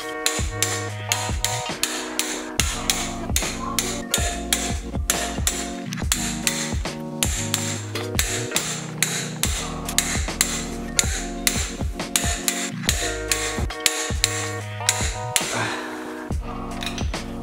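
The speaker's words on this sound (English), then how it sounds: "So I got my trusty torque wrench right here. We're gonna go ahead and start torquing them down." Repeated sharp metallic clicks and ratchet strokes come from a torque wrench tightening ARP head studs on a Ford Coyote engine block, with a steady rhythm of pulls and short pauses, close and clear.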